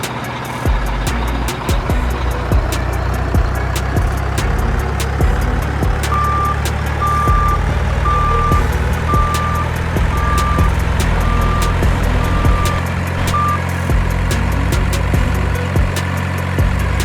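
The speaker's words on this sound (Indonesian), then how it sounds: "dump truck" A dump truck reverses with its engine rumbling steadily and close, while a backup alarm beeps evenly in a regular series through the middle of the clip.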